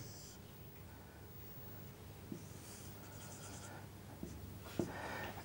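Marker or chalk strokes drawing a graph on a lecture-room board, faint scratchy taps and squeaks scattered over a steady room hum, with no talking.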